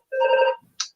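A telephone gives one short electronic ring burst, followed by a brief higher chirp, loud and close in an otherwise quiet room.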